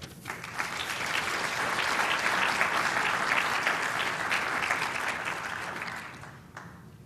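Audience applause welcoming a speaker to the stage at a gene therapy lecture, a warm sustained clapping from a full room that swells, holds for several seconds and then tapers off.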